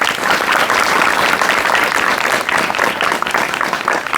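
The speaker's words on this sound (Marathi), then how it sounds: "म्हणून तुमच्यासाठी टाळ्या झाल्या पाहिजे." An audience at a Marathi talk by a doctor bursts into sustained, dense applause that stays loud and even throughout, with no voices on top.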